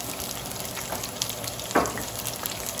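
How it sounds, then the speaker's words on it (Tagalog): Ricado spices sauté in hot oil in a pan for rabbit adobo, a continuous close sizzle and crackle with a brief louder stir-scrape partway through. "Saka po natin igigisa ang ating mga ricado"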